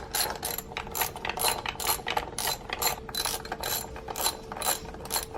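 Rapid, steady ratchet clicking from a hand ratchet on 10mm bolts on a Saab 9-3 Turbo X V6 engine, working in quick, even bursts close to the microphone with no talk.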